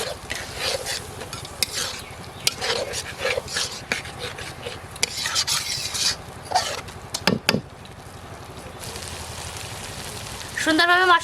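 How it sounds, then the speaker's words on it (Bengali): Strained mustard paste being stirred into katla fish curry in a pan, with steady scraping and soft sizzling, a few sharper clinks, and a brief louder burst of frying near the end. "এখন ছেঁকে রাখা সরিষা বাটা দিয়ে দেব।"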